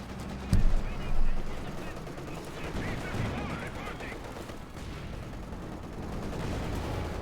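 A mortar fires in a Company of Heroes 2 battle, with two heavy thumps near the start followed by a rumbling stretch of distant gunfire, while a commentator talks throughout.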